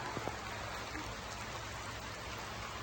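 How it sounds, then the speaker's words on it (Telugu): Steady rain patters down in a soft, continuous wash with a few distinct drips near the start, fairly faint and without voices. "వర్షం వస్తుంది"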